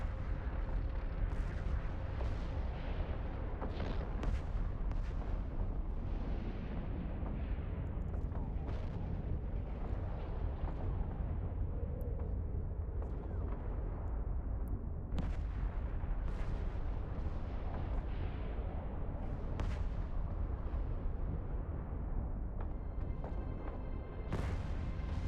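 Smart bombs in the game EVE Online, fired from a Golem, detonate as repeated heavy booms and rumbling blasts over a dense, continuous roar that stays loud throughout.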